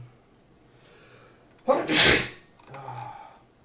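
A single loud, close sneeze during a bridge tournament game, with a sharp intake of breath, then a burst, then a brief quieter follow-up sound.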